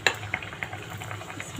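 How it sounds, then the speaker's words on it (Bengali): Spinach pitha fry in hot oil, a soft continuous sizzle with a few sharp clicks of a utensil against the pan near the start. "তো এই যে এখন পিঠাগুলো আমি, তেল গরম হয়ে গেছে, ভেজে নেব।"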